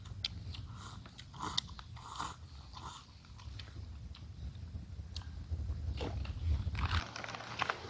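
Soft chewing and biting of food with soup, close and quiet, irregular crunchy bites and mouth sounds over a low background rumble.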